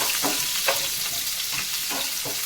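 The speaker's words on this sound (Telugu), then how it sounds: "సన్నగా తరుక్కున్న ఉల్లిపాయ వేస్తున్నానండి" Thinly sliced onion fries in a hot pan for an eggplant curry, giving a loud, steady sizzle broken by several scraping stirs.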